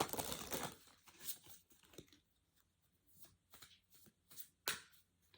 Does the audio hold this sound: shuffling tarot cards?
yes